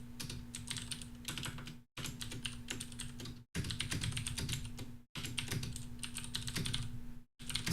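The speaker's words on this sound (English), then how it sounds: "my keyboard smacks because I'm typing up my new titles" Fast, continuous clacking on a computer keyboard, close and loud, in several long runs broken by brief silent gaps, over a faint steady hum.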